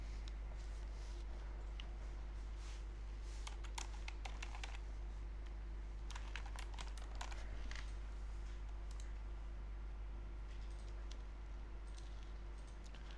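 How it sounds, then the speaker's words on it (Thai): Steady, fairly quiet clatter of typing on a computer keyboard, keys tapped in continuous bursts over a constant low hum, with no voices. "ให้ท่านพิมพ์คำอธิบายสั้นๆ"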